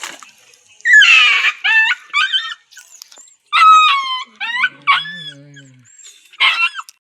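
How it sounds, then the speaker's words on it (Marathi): A dog gives a run of high, squeaky yelps and whining cries, close and fairly loud, in short bursts separated by quiet gaps. "ह्या पण कुत्रा भारी,"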